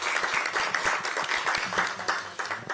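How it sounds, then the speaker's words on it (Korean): Steady clapping from attendees at a Democratic Party meeting in Korea, heard at moderate distance. Scattered sharp individual claps sit over a continuous wash of applause, with no speech over it. "박수 한번 치고 시작하죠."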